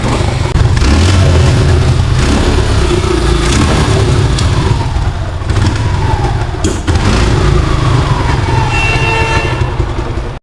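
A used Suzuki Gixxer 155 motorcycle with 20,000 km on it, in good condition, runs loud and close, its engine droning steadily with revs rising and falling.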